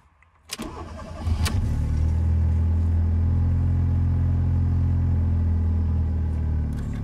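Fiat Panda 4x4 starting for the first time in seven years on stale fuel: a couple of cranking bursts catch into a loud, close, steady idle that rumbles on to the end, with no talk.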